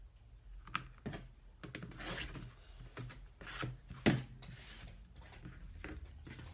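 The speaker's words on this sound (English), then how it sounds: "And then I'm gonna trim this side down." Cork fabric trimmed along a ruler while sewing a trifold wallet, quiet scraping and rubbing strokes in an uneven rhythm, close and faint.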